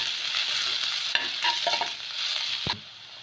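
Ginger and garlic paste sautés in a pan for an egg pepper fry, giving a steady close sizzle broken by a few scraping stirs and clinks of a spoon, with no talk.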